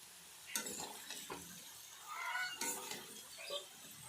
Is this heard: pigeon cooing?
no